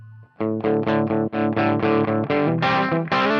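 Electric guitar played through an AX8 amp modeler with amp XY engaged and the bright switch off, ringing out a run of about nine distorted, sustained chords strummed one after another, loud and close with no voices.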